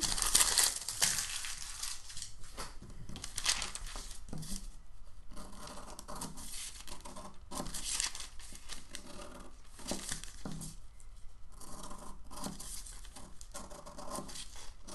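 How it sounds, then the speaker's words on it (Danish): A paper sewing pattern being cut out quickly with scissors, giving a close, rapid run of crisp snips and rustling, crinkling paper handling that goes on steadily without talk. "Og klipper mønstret lidt ud så hurtigt som muligt"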